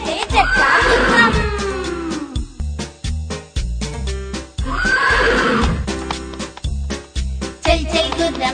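A horse in a Telugu children's rhyme gives two loud, drawn-out whinnies separated by a run of sharp, rhythmic clip-clop hoof beats, close and prominent, with no speech.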